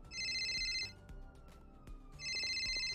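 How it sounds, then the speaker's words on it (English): Electronic phone ringtone from a GTA roleplay game, two bursts of a bright warbling ring separated by a gap, played over steady low game music and ambience. "Oh, phone call."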